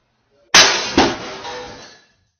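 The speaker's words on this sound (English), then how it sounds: "We see a solid glass table in the middle of the room suddenly explode for no good reason." A solid glass table suddenly explodes into shards indoors: a sharp, loud crash followed by a second impact and a fainter third, with glass fragments tinkling and scattering before quickly fading to silence.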